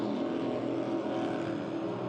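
A 42-foot Fountain racing powerboat with twin Mercury 700 SCI engines, Speedmaster drives and Herring propellers, roaring at speed during a race. The engine drone is steady and loud, with no break and no voices.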